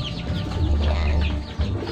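Domestic chickens cluck steadily and close by in a continuous chorus of short, overlapping calls over a low background rumble.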